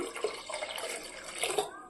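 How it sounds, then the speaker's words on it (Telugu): Water poured into a pot of dal sloshes and splashes steadily for about two seconds, close by, with no one talking. "దీనిలో కొంచెం వాటర్ కూడా పోస్తున్నానండి."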